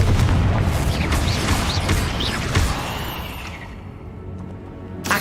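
Confringo blasting spell going off in Hogwarts Legacy: a loud burst with a thick rumbling roar and whooshing streaks that slowly fades over several seconds, ending in a small final pop.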